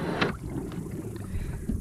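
A Jackson Flex Drive E kayak pulls away at its top fifth speed. Soft water wash and wind rush come through at a low, steady level, with a few faint splashes and no voices.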